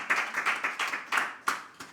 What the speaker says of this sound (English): Wow, good applause.